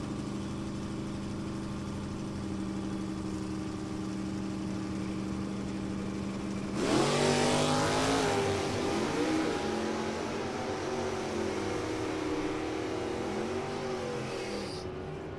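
At an NHRA drag strip, an 83 Camaro and a 69 Camaro idle loudly and rumble on the starting line. Midway both engines roar to full throttle as they launch, then their wail fades as the cars pull away down the strip.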